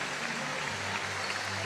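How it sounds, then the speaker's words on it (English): A basketball crowd at a women's professional game in an indoor arena applauds a player heading to the sideline, producing steady, dense clapping throughout with a low hum beneath. "a round of applause for Maddie Rochi"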